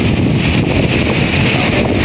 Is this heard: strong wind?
yes